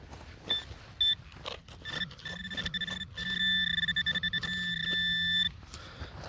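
A metal detector gives repeated electronic beeps while searching for a target, starting as short chirps and then settling into a longer, warbling tone, over soft rustling and handling noise.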